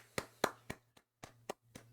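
A single person claps about seven times in an irregular rhythm, the sharp, fairly faint claps sounding alone in a quiet room.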